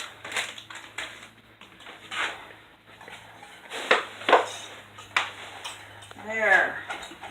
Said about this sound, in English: we're going to add that to the mixture and we're going to whisk it in